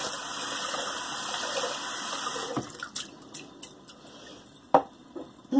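Water runs from a tap to wet a synthetic shaving brush: a steady close hiss and splash for about two and a half seconds, then the flow stops and scattered drips, squishes and small knocks follow.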